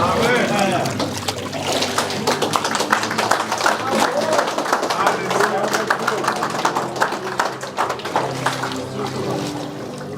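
Water splashes and pours steadily during an immersion baptism at the Ranková Zirka church in Pecheski village near Khmelnytskyi, a busy, textured wash that continues under voices.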